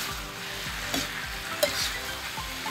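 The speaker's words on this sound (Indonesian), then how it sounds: "Lalu kita aduk sampai tercampur rata." Vegetarian rice noodles with vegetables are stir-fried in a pan, a steady low sizzle broken by repeated rhythmic scrapes and stirring strokes plus a few sharp clinks, with no talking.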